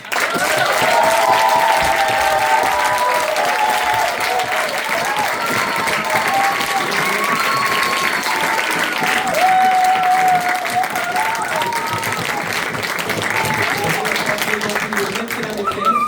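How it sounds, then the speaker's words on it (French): Sustained applause from a school concert audience at FIAP Jean Monnet, steady and loud throughout, with voices and what sound like children calling and singing over the clapping. "ils ont assuré, on peut les applaudir."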